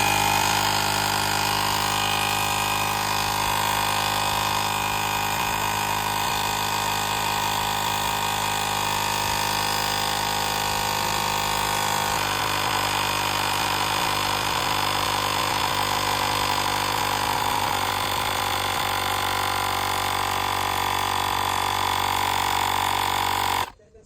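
A LYDSTO portable car tire inflator runs loudly and steadily while pumping up a ball. Its constant buzzing motor drone holds for over twenty seconds, then cuts off abruptly as it stops on its own.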